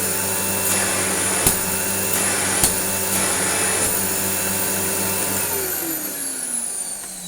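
A Dirt Devil Eclipse Plus 6750UKA vacuum cleaner runs with a loud, steady whine and rushing airflow, a couple of soft knocks near the start, and the motor pitch falling away toward the end as it winds down.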